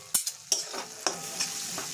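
Spice paste with chilli paste and a splash of water frying and being stirred in a pan for a cauliflower, potato and koi fish curry, soft steady sizzle broken by several sharp scraping strokes of the spoon, close, no talk.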